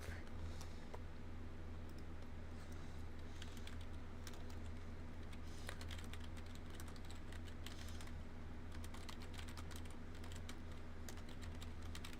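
Rapid, close typing on a computer keyboard, steady clicks over a low background hum.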